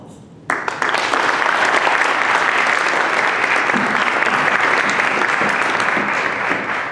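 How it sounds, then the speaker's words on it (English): After a brief quiet moment, an audience at a McMaster University human rights lecture bursts into warm, full applause that stays loud and steady to the end, welcoming the visiting lecturer. "I'll pass the podium on after we give you a warm welcome of applause"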